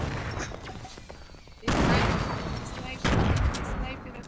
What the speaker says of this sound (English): Damn, this shooting from so far away!